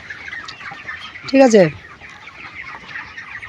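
A chicken lets out one short, loud burst of clucking close by, set against steady background noise, with a person saying a couple of words nearby.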